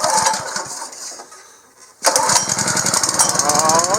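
Honda small engine coughs and sputters to start with a gap in between, then catches and runs loudly, with a steady rapid mechanical chug close by.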